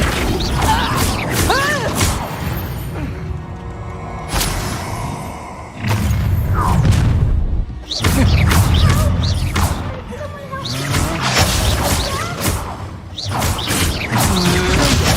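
The Flipendo spell is cast in a Harry Potter video game duel, heard as bursts of magical whooshes, thuds and crashing impacts mixed with other spell effects, with voices shouting incantations throughout.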